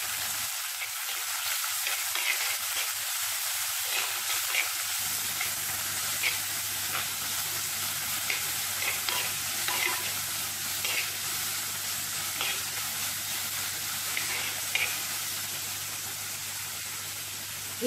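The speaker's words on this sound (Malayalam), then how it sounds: "നന്നായിട്ട് ഇളക്കി കൊടുക്കാം." A buttermilk curry made without coconut sizzles steadily in a pan while being stirred, a continuous close hiss with soft scraping strokes and no talking.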